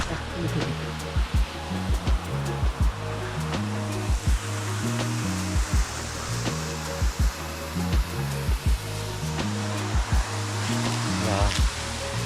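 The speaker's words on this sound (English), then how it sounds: "it's a small waterfall" A small waterfall in a remote natural spot, giving a continuous rushing water roar close by. Repeated thumps and bumps occur over it, and someone talks in between.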